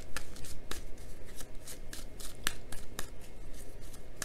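Tarot cards being shuffled by hand close up, with a quick series of crisp riffling snaps and papery slides in an irregular rhythm, no voices.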